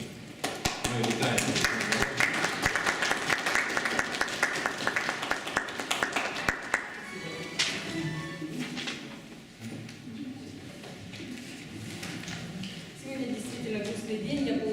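A room of people at a city council session applauds, dense steady clapping for about seven seconds that thins into scattered claps and murmuring voices.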